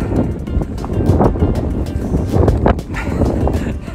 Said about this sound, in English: Windy again now, as soon as I start recording.